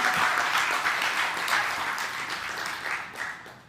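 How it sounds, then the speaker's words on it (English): A crowd at a spiritual talk gives a speaker another round of applause, a steady wash of many hands clapping that tapers off after a few seconds. "Give him another round of applause."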